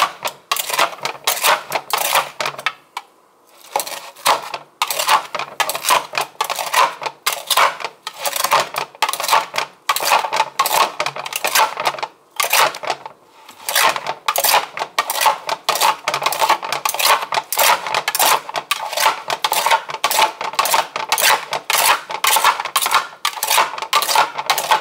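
A knife dices salad on a cutting board in rapid, steady, loud chops that run almost without a break, with only a couple of brief pauses.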